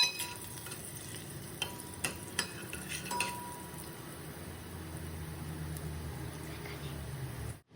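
Garlic cloves frying in a pan for khichdi: a steady, soft sizzle runs throughout, with a few metallic clinks of a utensil against the pan near the start.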